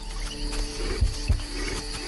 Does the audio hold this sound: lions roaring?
yes